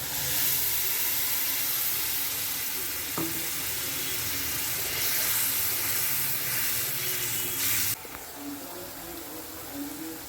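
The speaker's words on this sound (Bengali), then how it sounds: "তেল ছেড়ে দিয়েছি এবার জলটা দিয়ে দিই" Water poured into hot oil for a pointed gourd (potol) masala, a loud steady sizzle with hiss and steam filling the whole stretch, easing slightly near the end.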